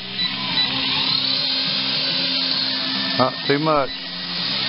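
Motors of a homemade quadcopter built from scraps and used parts as it takes off, a steady high electric whine with shifting pitch, close and loud, with someone speaking briefly over it.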